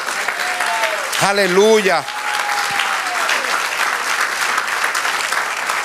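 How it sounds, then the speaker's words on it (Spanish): Church congregation applauding, a broad steady wash of clapping under a sung or shouted voice and a preacher's speech. "Dale un aplauso al Señor."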